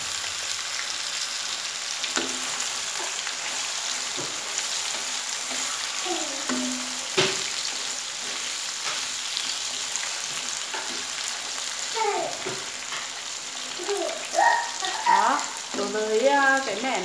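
Potato pieces sizzle and crackle steadily as they fry in a pan of oil, with occasional stirring scrapes and a few louder spitting pops near the end; no talking.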